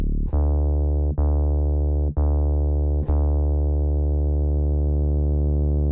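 A Korg opsix FM synthesizer plays sustained sine-operator tones through a bandpass filter, a pure, steady held note retriggered four times with a soft click at each new attack, clean and alone.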